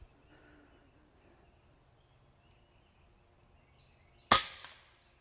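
An FX King air rifle fires a pellet at a target: one sharp, close crack with a short ringing tail after several seconds of near silence.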